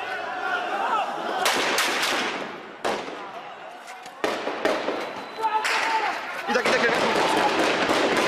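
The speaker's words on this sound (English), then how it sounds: "Sometimes, as it did today in the city of Idlib, shooting breaks out moments after they leave." Gunfire bursts out in the city of Idlib, Syria, with sharp cracks and clusters of shots at varying distances over a noisy street background, and voices are heard among the reports.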